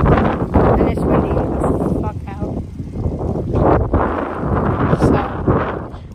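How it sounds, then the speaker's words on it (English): Wind buffets the microphone outdoors during a walk, rough low rumbling gusts that rise and fall under casual talking from the people walking. "And it's windy."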